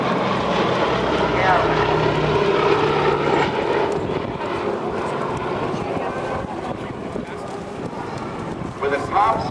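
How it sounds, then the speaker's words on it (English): A Boeing B-17 Flying Fortress, a four-engine propeller bomber, drones past at an air base air show with a loud, continuous engine roar, while an announcer talks over it throughout. "B-17 coming by right now was the Flying Fortress, built by Boeing."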